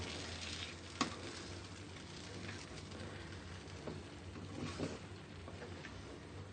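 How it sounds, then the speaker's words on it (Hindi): Aloe vera halwa is slowly stirred in a pan over low heat, giving a quiet, steady sizzle with soft scraping strokes and an occasional sharper tap of the spoon. "इसको हम स्लो स्पीड पे हिलाते रहेंगे।"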